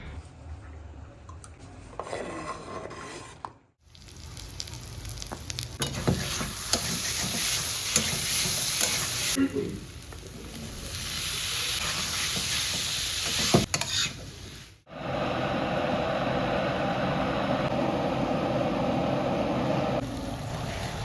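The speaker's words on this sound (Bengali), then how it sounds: "বাটা মশলাটা আলু পেঁয়াজ ভাজার মধ্যে দিয়ে লবণ, হলুদ, কাশ্মীরি লঙ্কা গুঁড়ো, ধনে গুঁড়ো, জিরে গুঁড়ো দিয়ে মশলাটা ভালো করে কষিয়ে নিচ্ছি" Spice paste with salt, turmeric, Kashmiri chilli, coriander and cumin powders being sautéed into fried potatoes and onions for chole, a continuous sizzle with stirring scrapes, broken by two brief cuts.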